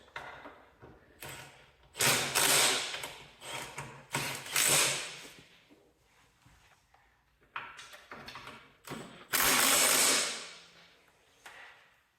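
A ratchet tightens bolts on a Cub Cadet 582 garden tractor in bursts of rapid clicking and metallic clatter, each burst separated by pauses, with no speech.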